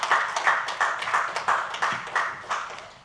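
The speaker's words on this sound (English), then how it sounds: "a round of applause for Wendy and Jeff" Audience clapping at a pub politics Q&A event, a brisk run of distinct, fairly close claps in an even rhythm that carries on for a few seconds without talk.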